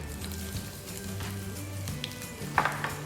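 Ginger dropped into hot oil with curry leaves for curd rice tempering, a steady close sizzle and crackle with light utensil clinks near the end, no voices.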